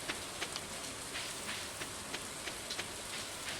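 Rain falls in the farming video game Stardew Valley, a soft steady hiss with faint scattered droplet ticks, low and even throughout with no voices.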